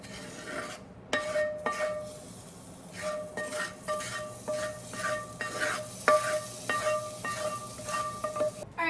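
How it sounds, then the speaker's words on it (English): Flour and butter stirred in a pot for a tomato pasta sauce, with repeated metallic clinks and scrapes of a utensil against the pot over a faint sizzle, steady and close, with no voices. "we'll just mix this up until it turns a consistent color"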